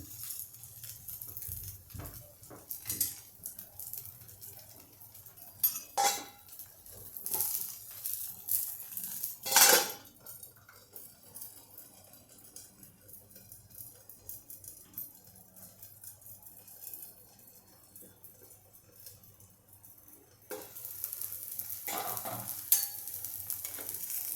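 Thalipeeth, a flat Maharashtrian multigrain flatbread of jowar flour, thin poha and puffed rice, sizzles softly on a hot pan with steady frying crackle and a few sharp scraping bursts, alone with no talking.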